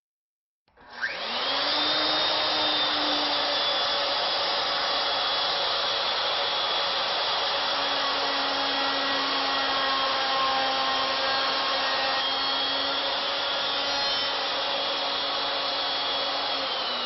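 Handheld wood router spinning up and making a test cut in wood, a sudden loud high whine that holds steady and continuous for the whole stretch, close up and without speech.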